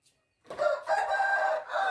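A rooster crows loudly and close by, one drawn-out cock-a-doodle-doo starting after a brief silence and filling the rest of the moment alone.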